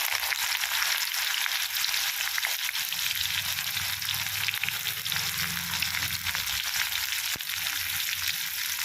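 Onions fry in hot oil in a pan, making a loud, continuous bright sizzle. A low background rumble comes and goes, and there is a single sharp tap near the end.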